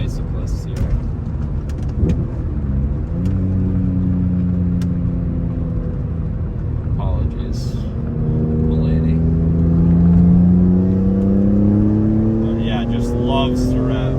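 BMW E46 M3 Cabriolet with the S54 engine, top down, rising through the revs with a deep exhaust note that climbs steadily and holds loud near the end, a passing car sound with steady drone throughout.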